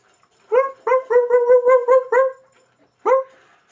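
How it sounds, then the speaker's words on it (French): Dogs bark in Call of Duty Black Ops: a close, loud run of about eight sharp barks in quick rhythm, then a pause and one final bark, with no talk. "je crois que c'était un chien ennemi"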